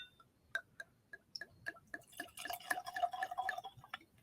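Glenmorangie Scotch whisky poured into a glass, a run of distinct drips and small splashes building into a steady liquid trickle with a faint glassy ring, close and fairly quiet.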